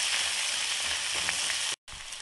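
A steady, close sizzle of thinly sliced onions frying in a hot pan, broken by a very short silence near the end.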